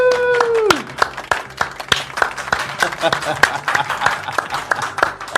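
Scattered clapping from a small crowd at a drag queen gaming show, uneven and moderately loud, with a voice whooping at the start over the claps.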